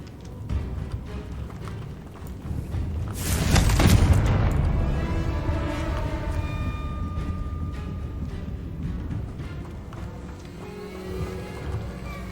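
A fiery Confringo spell blast from Hogwarts Legacy booms loudly about three seconds in, then trails off into a rumbling decay with softer game sounds after it.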